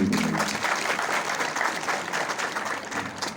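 An audience at a public event applauds steadily throughout, a dense, sustained clapping from a crowd that stays fairly loud and even from start to finish.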